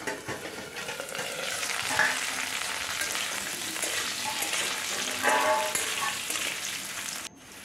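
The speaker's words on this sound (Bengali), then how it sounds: "হলুদ লবণ দিয়ে ভেজে নাও।" Potatoes frying in a pan with turmeric and salt, producing a dense, continuous close sizzle with a few louder bursts of crackle, ending abruptly.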